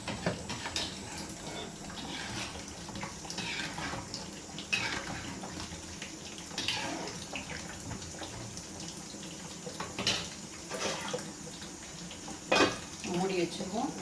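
Water poured into a chicken biryani pot on a home stove, a steady splashing pour that runs continuously and close by, with faint kitchen clatter and a few sharp knocks near the end.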